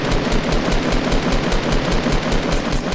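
Rapid automatic gunfire in the Fortnite video game, dense and loud, with a fast continuous rattle of shots that holds at full level through the whole moment, with no voices.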